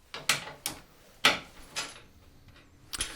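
A 19mm socket and spanner working bolts out of a trailer coupling, several separate metallic clacks and ratcheting clicks with quiet gaps between them.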